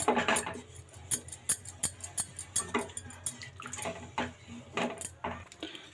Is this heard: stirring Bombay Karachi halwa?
yes